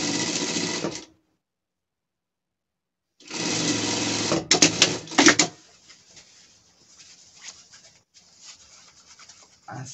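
Sewing machine stitching a seam that joins lining to lining and main fabric to main fabric on a gaucho-style pet outfit, in two bursts separated by a pause, followed by quieter handling noises.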